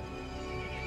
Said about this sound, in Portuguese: O cavalo ficou irritado e chamou os outros monstros.